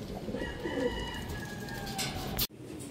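A racing pigeon coos softly right after arriving and being clocked on a hot race day, a low throaty call over outdoor background noise, with a sharp knock near the end.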